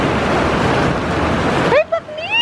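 Rain patters and drips on a roof in a dense, steady hiss close by, then breaks off into a voice speaking near the end.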